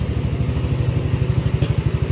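Yamaha ATV engine running after a carburetor cleaning, a loud, close, rapid low chugging idle with steady even pulses and a faint higher tick partway through, no talk.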